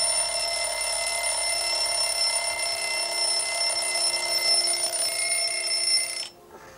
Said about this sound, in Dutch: Waarom heb ik dan mijn wekker gezet?